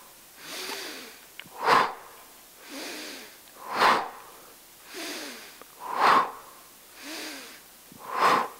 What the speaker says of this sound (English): I inhale and then exhale.